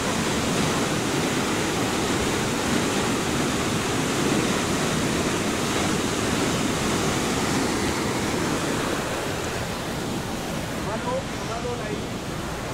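A stream rushes like a waterfall on Cerrito San Juan de Machalí at night, a loud, constant, broadband roar that fills the whole stretch without a break.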